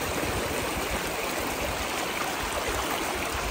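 Stream water flows steadily and fairly loud, a continuous broadband rush and gurgle with no talk over it.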